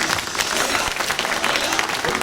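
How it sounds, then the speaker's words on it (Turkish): A brief, loud burst of crowd applause at a political gathering in Göynük welcoming the mayor, thick and continuous throughout. "Güçlü bir alkış alabilir miyiz?"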